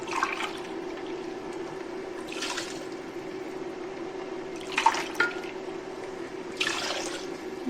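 Water poured into a bowl of thinned dough paste for sour turnip pastries, a few short splashing bursts of liquid against a steady background hum, close and moderately loud.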